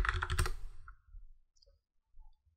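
Fingers typing a password on a computer keyboard: a quick close burst of clicky keystrokes, then a few sparse faint taps in a quiet room.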